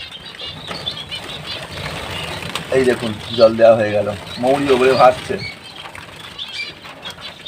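Pigeons flap their wings inside a loft housing about fifty birds, bursts of fluttering rising in the middle amid general rustling, while someone talks throughout.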